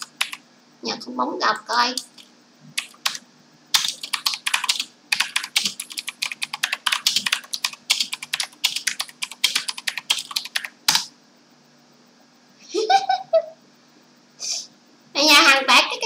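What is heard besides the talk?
computer keyboard typing heard through mic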